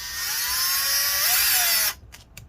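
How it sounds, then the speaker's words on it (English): A power drill grinds into the rivets of a mid-2017 15-inch MacBook Pro A1707 in one steady, loud high-pitched whine for about two seconds, rising slightly in pitch before cutting off, followed by a few brief faint clicks. "I'm going to just try and drill"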